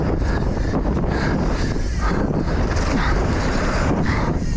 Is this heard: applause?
no